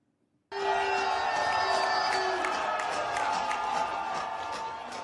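Crowd cheering and whooping with scattered clapping, loud and continuous after an abrupt start, with a prominent voice over the noise.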